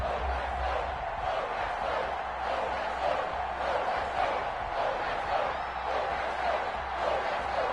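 Stadium crowd cheering in the Madden 21 football video game ahead of a Miami Dolphins versus New England Patriots matchup, a steady, dense roar of many voices that holds at an even loudness throughout with no break.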